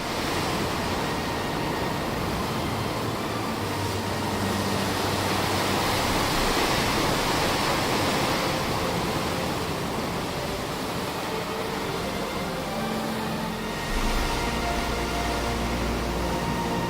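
Broad, steady surf roar of ocean waves on a stormy coast, continuous and loud throughout with a swelling wash near the end, no voices.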